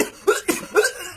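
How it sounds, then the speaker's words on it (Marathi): A man coughs three times in quick succession, close and fairly loud, short harsh bursts separated by brief pauses. "खोकतोय एवढा तू"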